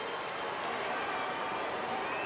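A baseball stadium crowd at an Angels game cheers for Vlad Guerrero with a steady, broad roar, sustained and fairly distant throughout.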